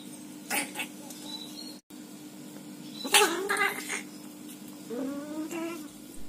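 Drawn-out, wavering yowls from mating cats, an orange male and a black part-Angora female, come in several bursts over a faint background hum, close by and fairly loud.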